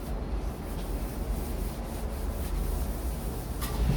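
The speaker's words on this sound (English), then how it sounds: "I'm not scrubbing too hard" Steady scrubbing of dirty water fountain heads, a continuous close rubbing texture with gentle agitation and no voices.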